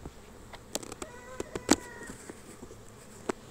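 A honeybee forages on flowering rapeseed outdoors, a faint, brief buzz passing close among scattered clicks and light ticks.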